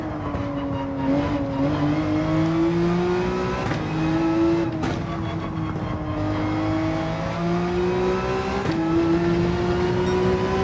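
Race car engine in Gran Turismo 7, a Porsche or Ferrari lapping a track, drones loud and steady with a rising, falling pitch as it shifts through gears and accelerates out of corners, with brief tire noise.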